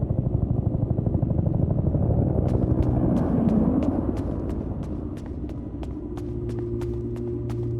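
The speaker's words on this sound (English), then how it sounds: "Is that the evac chopper?" A video game helicopter in the retro point-and-click horror game Peridium: a low, heavy rotor rumble with a rapid chopping pulse holds steady throughout, loud and close, with a faint high ticking joining midway.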